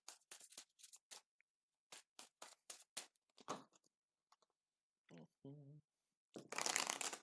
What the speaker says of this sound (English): I'm going to try to mix up the cards,